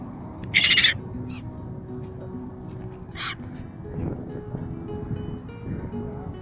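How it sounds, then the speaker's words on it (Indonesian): Crows or similar birds caw twice outdoors in Ushuaia, Argentina, a loud harsh call near the start and a shorter one a few seconds later, over low steady outdoor background noise. "Oh, ini ada burung-burung nih."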